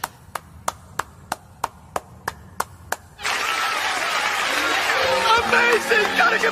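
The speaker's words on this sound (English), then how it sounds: "Is it me, or is the applause louder?" A single sharp clap repeats evenly about nine times, then an audience bursts into loud, sustained applause with cheering voices over it, in an anime dub scene.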